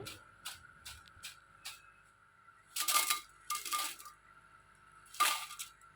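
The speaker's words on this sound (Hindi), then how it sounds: "आवाज़ से आपको अंदाज़ा हो जाएगा ये कितने क्रिस्पी हैं।" Crisp crunching bursts from super crispy street-food style fried french fries being bitten or handled, several sharp bursts after faint clicks, close and loud with no talking.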